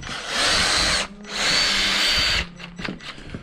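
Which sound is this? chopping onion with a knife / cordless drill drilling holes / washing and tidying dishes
cordless drill drilling holes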